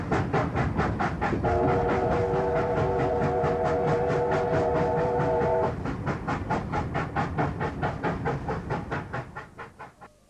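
Steam locomotive 3801 pulls a train steadily along the rails with a rhythmic clickety-clack, and a sustained whistle sounds for several seconds before the clatter fades away.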